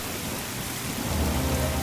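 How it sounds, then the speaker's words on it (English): Pouring rain striking an old red barn, a dense, steady hiss of heavy rainfall with a low rumble swelling underneath, continuous and close with no voices. "The only sound was that of the pouring rain striking the old structure."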